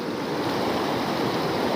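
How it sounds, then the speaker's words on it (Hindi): Swollen Devalgarh river in a hill area rushing steadily, a dense continuous roar of flowing water close by with no break or voices across the short stretch. "ठीक ठाक पानी उफान भर है ये देवलगढ़ नदी"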